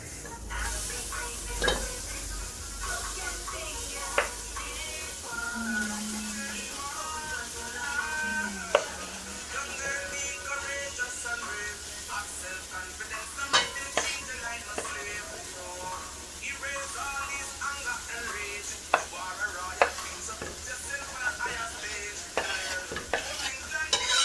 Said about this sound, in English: jackfruit is going into the pot